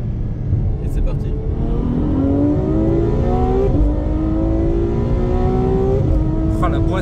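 A Ferrari F12 supercar engine roars loudly and close up as it accelerates hard after a downshift from third to second gear, the pitch climbing steadily through gears with brief shift breaks, under someone talking in French.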